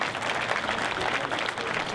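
Dinner audience breaks into dense, sustained applause, many hands clapping at once in a steady wash of noise filling the room.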